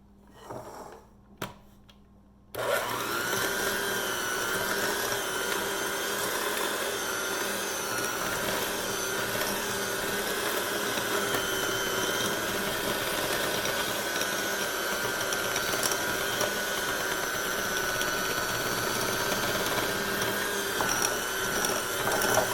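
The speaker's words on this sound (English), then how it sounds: "we'll just beat this up until it's nice and light and fluffy" An electric mixer beating sourdough oatmeal and sugar cookie dough, a steady continuous whir that starts abruptly after a few quiet knocks and runs evenly to the end.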